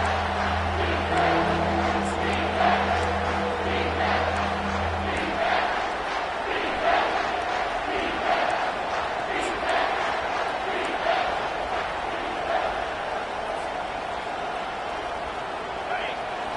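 A stadium crowd in the NCAA 25 college football video game roars to urge on the defense during a red zone stand. The noise is a steady, continuous din, with commentator speech over it.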